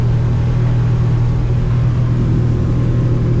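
A Yamaha F150 outboard motor on a 2021 Defiance 250 Admiral EX boat runs at cruising speed, giving a loud, constant, heavy rumble with wind and water noise.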